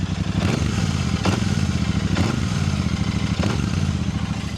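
A Royal Enfield Super Meteor 650, a large 650 cc twin still in its early running-in period, idles and runs at normal revs with a steady, loud, close throbbing engine note and faint mechanical clatter throughout.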